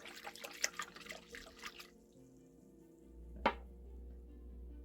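A small whisk stirs ingredients in a bowl while making no-knead sourdough bread, giving about two seconds of quick, light clinks and taps, then near silence broken by one sharp click.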